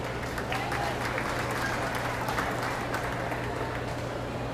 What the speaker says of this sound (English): Give the young man a round of applause.